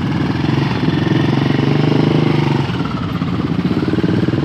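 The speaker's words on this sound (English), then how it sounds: "Yes, rev it up, brother." Motorcycles at a bike festival rev loudly up close, a rapid throbbing engine pulse that swells and holds as a rider crew enters the grounds.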